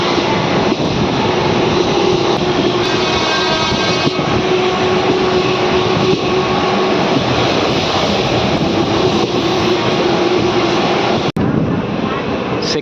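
A Raichur–Guntakal DEMU passenger train rolls along with a loud, steady rumble of engine and wheels, continuous and close throughout, with one sharp click near the end.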